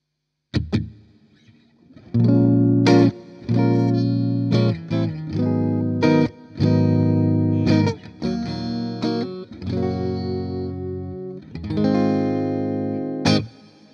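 Electric guitar played through a cavernous hall reverb in AmpliTube on iOS, loud strummed chords and single notes ringing out with long spacious tails across several phrases, no voice.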